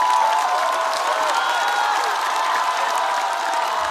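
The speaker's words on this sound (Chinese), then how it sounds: "掌声恭喜二哥进入到下一轮。" Audience at a stand-up comedy competition show clapping and cheering after a vote result, a dense, sustained roar of applause with voices mixed in, loud and unbroken.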